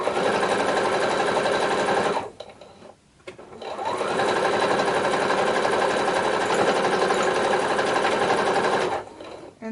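A sewing machine stitches along the edge of a quilted book cover in a steady, fast whir, pausing briefly near the start before running continuously again and stopping near the end.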